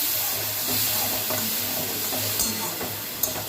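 Ground spice mixture frying in a pan for a vegetarian soybean muitha dish, a steady close sizzle and hiss with faint stirring scrapes running throughout and no voices.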